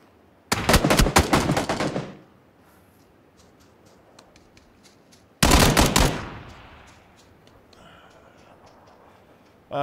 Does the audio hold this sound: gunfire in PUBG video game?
yes